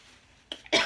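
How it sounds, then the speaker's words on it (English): A single sharp cough bursts out close to the microphone after a quiet moment, the reaction of someone eating spicy seafood boil with king crab legs. "when I eat spicy stuff, I get the coughing and stuff"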